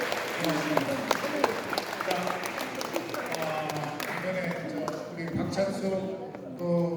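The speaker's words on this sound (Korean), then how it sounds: "박수로 성원해 주시면" An audience at a church gathering applauds with clear individual claps at the start, then thins out while people talk and murmur, with a voice coming forward near the end.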